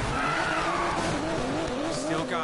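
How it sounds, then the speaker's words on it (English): A high-revving Audi R8 V10 engine in Need for Speed Payback whines continuously with tires squealing, mixed with game sound effects and a voice speaking over it. "I hear that V10 too."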